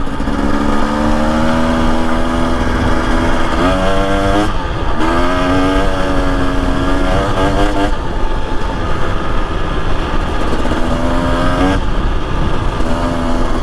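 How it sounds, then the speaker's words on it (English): Husqvarna TE 250 dirt bike fitted with an FMF exhaust, riding past continuously with a loud, raspy two-stroke drone that rises and falls through throttle changes and gear shifts for the whole stretch. "And this FMF pipe is definitely louder."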